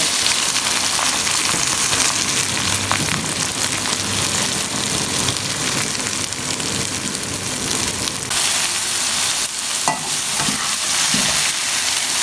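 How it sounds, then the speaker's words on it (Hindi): Onions sizzling and frying in oil with okra in a pan, a loud steady crackling sizzle throughout with occasional stirring scrapes and no talking. "प्याज हमारे ब्राउन हो रहे हैं।"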